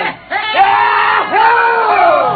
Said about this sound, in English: The Earth laughs and shouts echoing across the empty Martian sands.